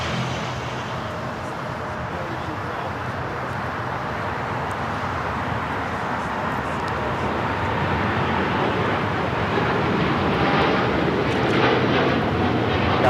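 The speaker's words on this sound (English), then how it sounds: "This is United Airlines 198 taking off to Shanghai on the 787-9 Dreamliner" United Airlines Boeing 787-9 Dreamliner takes off at LAX bound for Shanghai, a broad, steady jet engine roar that builds slowly in loudness over several seconds, heard alone with no talk.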